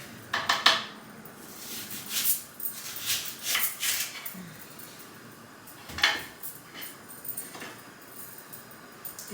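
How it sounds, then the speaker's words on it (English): A knife dices onions on a board in a home kitchen, producing a run of crisp, close knocks and scrapes that come in quick irregular bursts, with a few pauses between them. "I just go down and just cut it like I normally would cut the onions"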